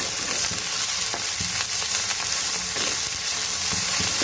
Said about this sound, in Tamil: பச்சை மிளகாய், பூண்டு எல்லாம் வதங்கிடுச்சுங்க.